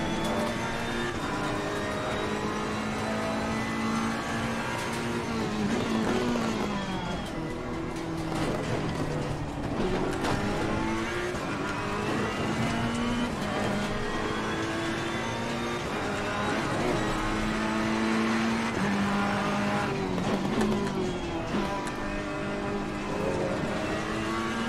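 Ferrari GT3 Evo race car in the Assetto Corsa Competizione game, lapping Oulton Park circuit: a steady, loud engine drone with rising and falling revs through gear changes, continuous throughout.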